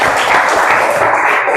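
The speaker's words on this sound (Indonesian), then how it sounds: "tepuk tangan nak" A classroom of students claps together in a short, dense burst of applause, loud and close, with no talking over it.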